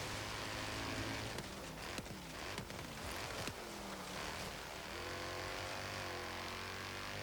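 A 2015 Jaguar XE-S in Forza Horizon 3 on an autocross course, its engine climbing and dropping in pitch through gear changes, steady and fairly loud under wind-like noise.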